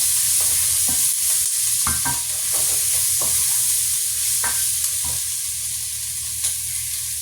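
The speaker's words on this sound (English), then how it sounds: "now we're going to add the ball pepper," Bell pepper is stirred into sizzling chicken and rice in a single pot, with a steady hiss of frying broken by repeated scraping strokes of the spoon against the pan.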